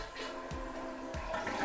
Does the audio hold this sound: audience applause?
no